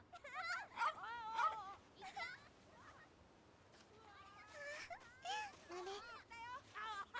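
A dog in the Yakuza 3 video game gives faint, repeated yips, whimpers and short barks in bursts, mixed with talking voices at low volume.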